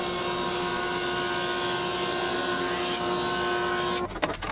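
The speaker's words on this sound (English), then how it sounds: "A couple passes through the drum sander will get them down to the thickness that I need." A drum sander thins resawn maple pieces, giving a steady loud whining drone with sustained tones that runs unbroken, then a short rough burst of noise near the end.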